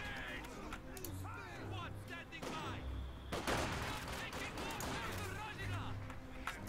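Artillery barrage in Company of Heroes 2, a real-time strategy battle with repeated low booms and crackling gunfire across the clip, mixed under game voice lines.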